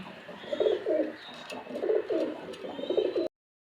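Bangladeshi fancy pigeons give a close series of about six low rolling coos in a steady rhythm, each a throaty burble, before cutting off abruptly.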